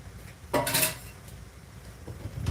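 Metal utensils clatter briefly while rummaging for scissors, a quick jangle followed by a fainter knock, close by in a quiet kitchen.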